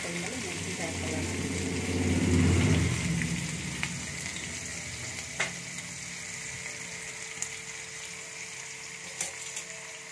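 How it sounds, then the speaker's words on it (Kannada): Mustard seeds and garlic frying in hot oil for a pickle, a crackling, spitting sizzle that swells then settles into sparse pops and sharp clicks, close by. "ಸಿಡಿತಾ ಇದೆ ಚಟಪಟ ಅಂತ"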